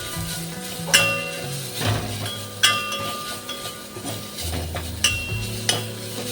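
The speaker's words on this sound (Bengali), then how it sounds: "এটা কিন্তু গ্যাস কমাবে না, মানে মিডিয়াম রেখেই নাড়তে থাকবে" A spoon stirs food in a pan over medium heat, scraping and clinking against the metal at irregular intervals, with a soft sizzle beneath the strokes.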